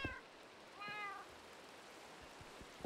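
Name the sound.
cat meowing in the video game Minecraft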